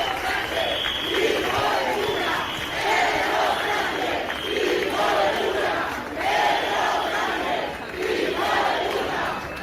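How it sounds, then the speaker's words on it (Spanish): A large protest crowd in the streets of Melilla chants insults at Pedro Sánchez in loud, rhythmic collective shouts that rise and fall in waves, with no individual voice standing out. "Miles de ciudadanos de Melilla salieron a las calles para protestar contra la invasión migratoria y la gestión del gobierno, con cánticos de Pedro Sánchez"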